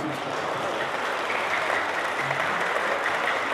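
An audience at a poetry recitation breaks into steady, sustained applause, a dense wash of clapping from a crowd that continues evenly throughout.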